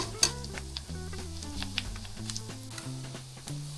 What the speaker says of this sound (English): After that we add the stock and then we reduce.